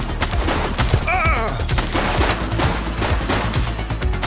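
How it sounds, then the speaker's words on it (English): Rapid bursts of gunfire fill a police shootout in the video game Precinct, loud and continuous with dense overlapping shots, over a layer of game music and effects. "She's shooting!"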